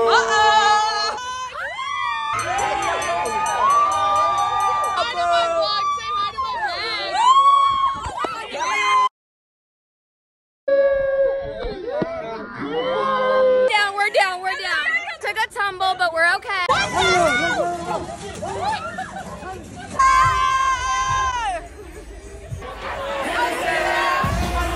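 A packed spring break crowd in Cabo cheers and whoops, dense shouting and excited voices near and loud, with one brief gap of silence midway before the rowdy noise resumes.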